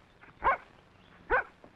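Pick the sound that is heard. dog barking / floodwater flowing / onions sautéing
dog barking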